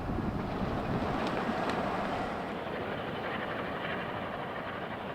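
A loaded freight train rolls past at Pine Junction with a steady low rumble and rattle, mixed with wind noise on the microphone, and nobody speaks.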